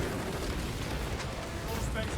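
Artillery fire in the Space Marine 2 video game, a dense, continuous rumble of heavy booms and blasts rolling together loudly with no clear gaps.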